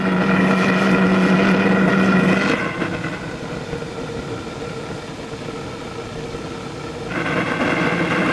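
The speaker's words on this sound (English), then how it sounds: "I'm turning the propane down." A propane-fired wood gasifier burner gives a steady, loud roar that drops to a quieter rush for several seconds when the gas is turned down, then swells back up near the end.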